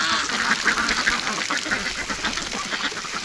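Muscovy ducks quack in a lively, overlapping clamor close by, their rough calls filling a short stretch with dense chatter.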